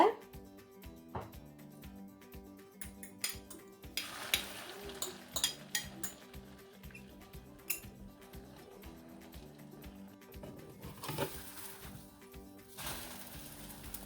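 An egg omelette cooks in an oiled pan, giving a soft, steady sizzle with scattered clinks and scrapes of a utensil against the pan. Stirring noises come and go, and the frying sound grows brighter in a few brief stretches.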